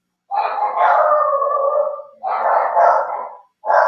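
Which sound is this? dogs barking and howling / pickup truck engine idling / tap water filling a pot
dogs barking and howling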